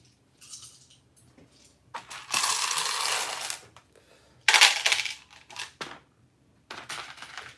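Small red LEGO parts, many of them 1x1 plates, rattle and clatter as a hand rummages through a pile, coming in several loud bursts of plastic clicking with quieter gaps between.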